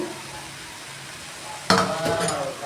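Grated coconut is stirred into a sizzling pan of vegetable poriyal, a quiet frying hiss suddenly broken by a loud spoon scrape and continued stirring against the pan.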